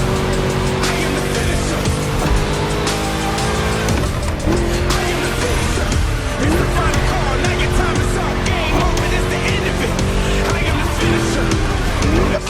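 A V8 car engine roars at high revs while racing in The Crew Motorfest video game, with sustained loud engine drone, gear shifts and tire squeals, and a voice talking over it.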